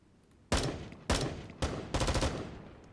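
Rifle shots in the survival video game Pantropy: four sharp, loud reports in quick succession, each with a short echoing tail.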